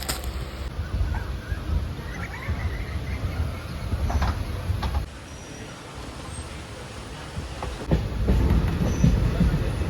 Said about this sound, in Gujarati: ટ્રેનમાં કટક બટક કટક બટક કરવાનું છે